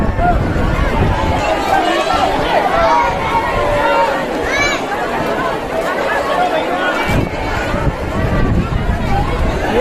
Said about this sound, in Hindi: भीड़ को देखिए, श्रद्धालुओं को देखिए